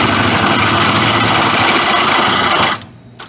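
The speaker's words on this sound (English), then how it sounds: "let's drill this one out" A power drill whines loudly and steadily as it bores through metal during a 4L80E transmission install, then cuts off abruptly, leaving a quiet background.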